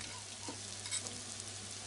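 Beaten egg sizzling in a frying pan while cooking Japanese carrot side dish Ninjin Shirishiri, a steady quiet frying hiss with faint stirring ticks, no talking.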